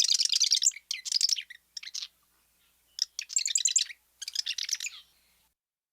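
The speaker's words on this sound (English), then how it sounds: "let's go over that variable kind of gurgling rattle for the marsh wren again" Marsh wren song, a series of variable gurgling rattles in repeated bursts with brief gaps. Moderately close and clear, with little background noise.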